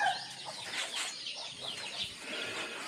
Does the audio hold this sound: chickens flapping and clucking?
yes